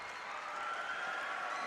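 Steady crowd applause and cheering in a gym after a made free throw at a boys' high school basketball region tournament game, a continuous wash of clapping heard from a distance without clear voices.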